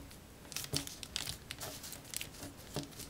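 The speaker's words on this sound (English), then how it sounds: "take this edge and fold it to the center." Sheet of paper creased and folded into an origami crane, giving soft crinkling and crackling rustles in irregular bursts, close and fairly quiet, with no talk.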